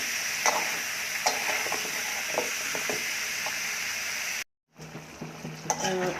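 Shrimp cooked with ripe sweet pumpkin and Malabar spinach sizzle loudly in a pan while being stirred, a dense steamy hiss with scraping spoon strokes and a brief pause in sound partway through.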